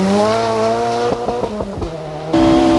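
Vatanen's two-wheel-drive rally car screams through a Finnish special stage at the 1987 1000 Lakes Rally. Its loud, close engine drops through several quick gear changes with tire noise, then settles into a high, steady wail.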